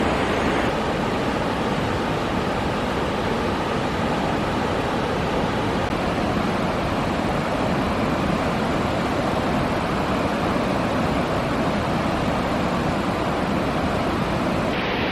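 River water in Scotland rushes past rocks in a dense, unbroken roar that stays loud and steady from start to finish, with no other sounds standing out.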